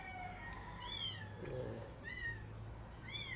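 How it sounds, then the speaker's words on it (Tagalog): A cat meows repeatedly, with several short rising-and-falling cries, some close and some fainter, over a low background hum. "Kaso maingay lang to eh. Ngiyaw ng ngiyaw to guys eh."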